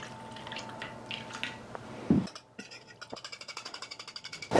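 Half a cup of milk poured into sourdough breakfast batter, a short liquid pour and splash followed by a run of rhythmic soft sloshing pulses, close and moderately loud in a quiet kitchen.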